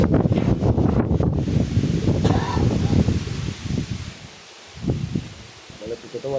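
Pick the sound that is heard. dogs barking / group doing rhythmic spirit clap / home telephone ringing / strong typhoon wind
strong typhoon wind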